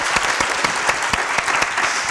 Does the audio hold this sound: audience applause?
yes